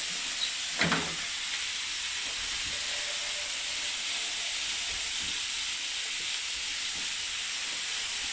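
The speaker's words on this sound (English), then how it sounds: "Now it will just sit and steam." Water steaming in a hot pan of filet mignon, a steady loud hiss that carries on throughout, with a brief clatter near the start.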